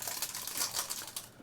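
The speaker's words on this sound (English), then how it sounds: "let me do the rustling over here so you can hear what I'm doing" Plastic packaging crinkles and rustles close by in quick, uneven bursts for a second and a half, with no voices over it.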